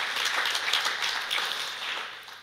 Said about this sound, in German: an der Stelle darf man klatschen